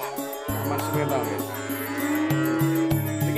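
Cow at a cattle market in Plaosan, Magetan, East Java, giving a loud, close, drawn-out moo with crowd chatter around it.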